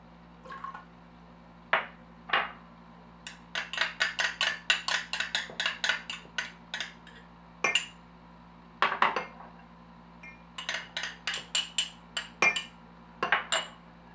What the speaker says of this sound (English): So we're just going to mix together our oil, apple cider vinegar, garlic, and mustard.